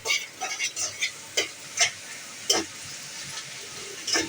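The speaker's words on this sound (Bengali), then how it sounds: "এই যে এখন পেঁয়াজ ভেজে নেওয়ার পর এখন ডিমটা দিয়ে দিয়েছে।" Egg frying in a pan with already-fried onion, a steady sizzle with several sharper scraping or stirring clicks spread through it, close and moderately loud.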